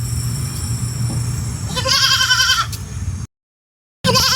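A goat bleats loudly nearby in a wavering, quavering cry, then cuts off into silence before another call begins.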